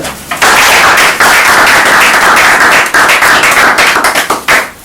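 Loud, close applause from an audience at a diploma ceremony, sustained with sharp individual claps.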